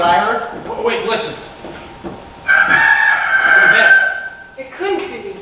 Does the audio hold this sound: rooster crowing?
yes